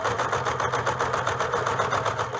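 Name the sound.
sewing machine stitching fabric for a hood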